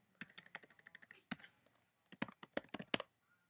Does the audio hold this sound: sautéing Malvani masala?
no